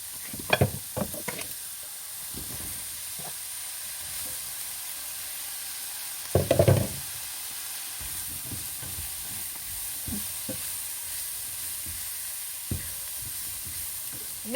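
Peppers and mushrooms frying in a pan for a hake curry, a steady sizzle with intermittent scraping and stirring clatter and a louder burst partway through, close by with no talk.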